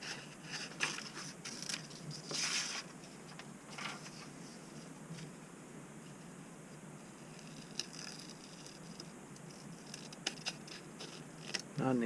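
Leather being cut out for an axe cover, a steady faint scratchy shearing with small clicks and scrapes running throughout, close up with no speech.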